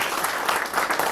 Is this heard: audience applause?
yes